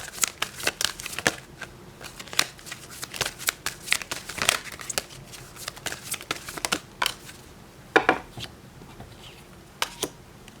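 Tarot cards shuffled and drawn by hand, a run of sharp riffling flicks and snaps close up, irregular bursts with brief pauses and no talk.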